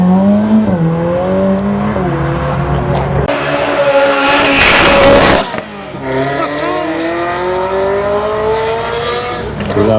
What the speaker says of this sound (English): Any excuse for a Ferrari driver to put it into launch control